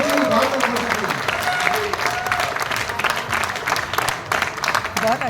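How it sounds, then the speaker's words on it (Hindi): Audience applause at a Bhopal division program of an advocates' welfare association fills the whole stretch as dense, steady clapping, with a voice talking over it. "आज हमारी भोपाल विभाग की नई कार्यक्रम के लिए इसलिए जोरदार तालियां"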